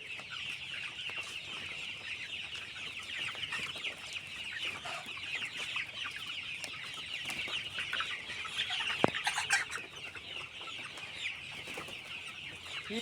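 A flock of broiler chickens clucks continuously in a poultry shed, a dense close chorus of overlapping clucks with a brief knock near the end.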